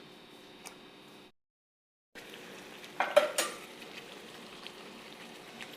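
Palak paneer being stirred and dried out in a pan as the heat is raised, with a faint sizzle, a brief gap of silence, then a couple of louder spoon scrapes against the pan.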